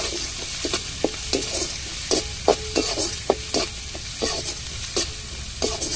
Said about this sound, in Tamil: அந்த இஞ்சி பூண்டு பச்சை வாடை மாறத்தட்டிக்கும் நல்லா வதக்கியாச்சுங்க.